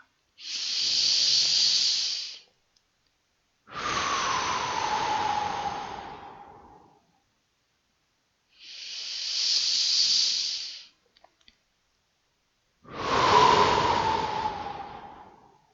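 Deep, slow breaths during a sophrology relaxation exercise, two full cycles of long hissing inhales and exhales, close and loud, each lasting about two to three seconds and separated by quiet pauses, with no talk.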